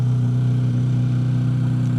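Corvette C8 Z06 with a Fabspeed titanium-tipped exhaust in its quietest mode, idling with a loud, steady low burble and an even pulsing throb close by, alone without talk.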